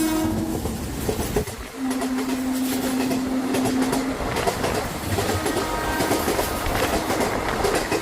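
Train rolling along on a journey in India, with loud continuous rail rumble and clatter throughout and a sustained horn tone for a few seconds near the start.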